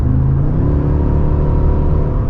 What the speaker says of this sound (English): See how quickly that was the downshift?